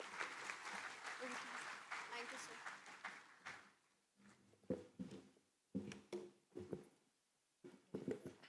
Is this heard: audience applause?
yes